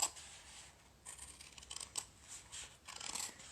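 Scissors cut fabric along a traced line for a handmade bicycle frame bag: a close series of crisp, uneven snips and rustles with no talking.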